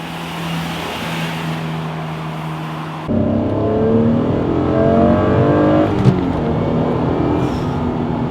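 An Acura NSX sports car, from the original 1991 generation or the newer one, drives along steadily, its engine hum rising after a few seconds and holding loud and close with a faint whir.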